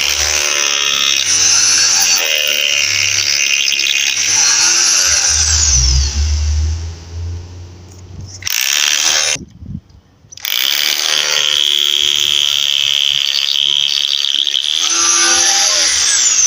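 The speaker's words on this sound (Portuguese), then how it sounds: "Eu vou fazendo os furos." A power drill bores a line of holes in wood for a slab joist. The loud whirring bursts run a few seconds each, with brief pauses and one near-silent gap between holes.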